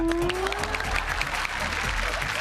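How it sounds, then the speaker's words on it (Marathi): Studio audience applauding two guests on a Marathi TV show, a short burst of clapping with a few crowd sounds and a brief tonal sweep from the show's soundtrack underneath. "आता माझ्यातर्फे दोघींना मिळत आहेत जोरदार टाळ्या."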